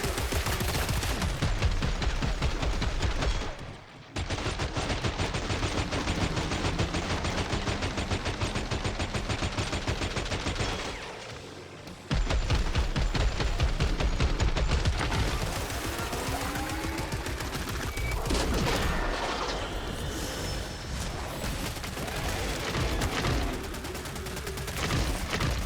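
An EBR rifle firing on full auto in Killing Floor 3, with long, loud, dense bursts of rapid gunshots. A couple of brief pauses break the fire, and it picks up again with more scattered combat noise behind it.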